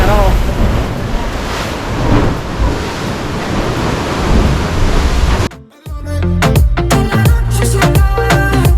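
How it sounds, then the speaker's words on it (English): Strong wind buffets the microphone while waves surge around a boat island hopping in rough weather off Boracay, a loud continuous roar that breaks off briefly near the end and returns with sharper gusting crackles. "Very windy today, like the weather is not changing at all since this morning"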